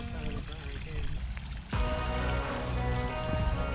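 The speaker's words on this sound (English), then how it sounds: "I like the sound of the water." Water runs and splashes steadily throughout in Shenandoah National Park, growing louder and fuller partway through, with faint talking in the background.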